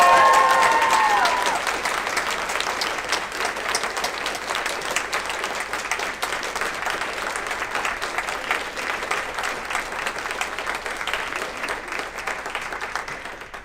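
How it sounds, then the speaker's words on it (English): Audience applause fills a conference hall at the NA Brno 2022 event, loud and sustained at the start, then easing slightly and holding steady as a dense wash of clapping with faint voices underneath. "Let's big round of applause."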